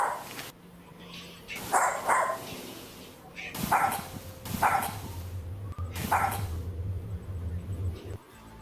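A dog barks and yips in playful bursts, several sharp barks spaced a second or so apart, fairly close, with faint background noise between.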